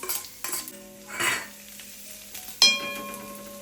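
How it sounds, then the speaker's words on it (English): Garlic sautéing for shirataki noodles, a soft sizzle in a pan with spatula stirring and scraping, a few sharp clinks of utensils against the pan, close and fairly quiet. "I'm just going ahead with just sauteing the garlic"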